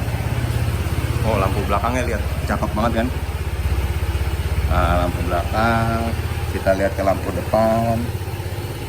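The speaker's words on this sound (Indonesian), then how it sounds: "Nah ini sekarang coba kita nyalain lah ya mesinnya." A Honda ADV 160 scooter engine idles with a steady, low, even putter close by, running continuously beneath someone talking.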